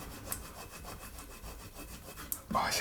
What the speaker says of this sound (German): Ich hasse dieses Rubbeln.